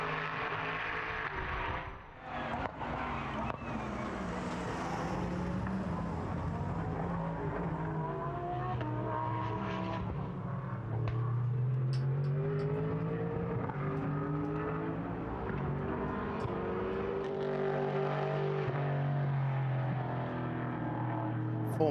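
A GT race car engine howls through qualifying at Portimão, revving up and down through gearshifts as it laps, loud and continuous with rising and falling pitch.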